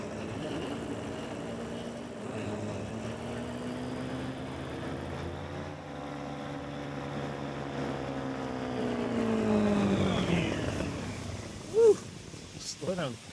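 Motor trike engine on skis landing on a snowy mountaintop, a droning engine whose pitch slides lower as it slows, then a louder rough patch and a few sharp bumps near the end.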